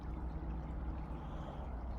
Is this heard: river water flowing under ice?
yes